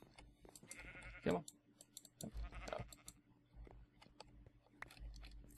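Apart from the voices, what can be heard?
sheep bleating in Minecraft video game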